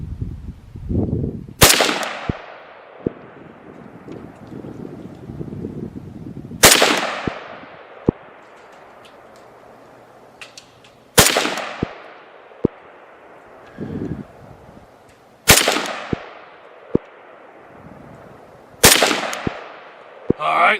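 Five sharp, loud Mini-14 rifle shots fired at a 100-yard target, spaced several seconds apart, each cracking and then ringing off, with faint clicks and small handling noises between them.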